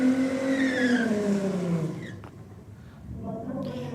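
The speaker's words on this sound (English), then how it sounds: "As the little Audi A1 comes out now." An Audi A1 races down the Sydney Dragway strip, its engine note rising and then sliding lower as it roars past, fading into a distant rumble before another loud burst.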